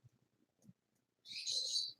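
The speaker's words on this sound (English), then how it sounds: "Just a bird." A single bird chirps clearly for about a second, a high bright call following a few faint low murmurs in an otherwise quiet room.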